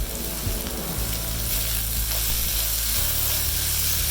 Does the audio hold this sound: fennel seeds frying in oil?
yes